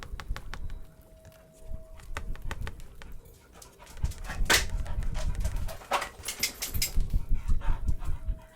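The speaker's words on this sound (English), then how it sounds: "The dogs are going nuts." Dogs pant, whimper and make restless vocal noises close by in a quiet indoor room, with scattered clicks and rustles rising into busier, louder panting toward the end.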